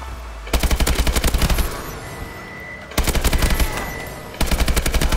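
An Ak-12 Hair Trigger rifle in Advanced Warfare fires three loud, rapid full-auto bursts, each lasting about a second, separated by short pauses of quieter game ambience.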